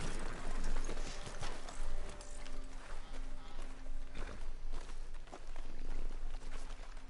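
A horse in Red Dead Redemption 2 walks along with a steady, close rhythm of clip-clop hoof beats throughout, with light background ambience.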